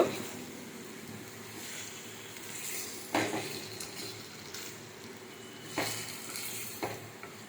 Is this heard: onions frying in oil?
yes